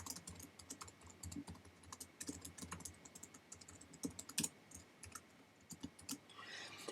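Quiet, uneven clatter of keys on a computer keyboard as someone types code, with quick bursts of keystrokes and short pauses, close and soft, without talk.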